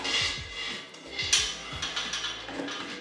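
A round nut is threaded and tightened on a light fixture being hung over a pool table, making a quick run of close metallic ratcheting clicks and light scrapes.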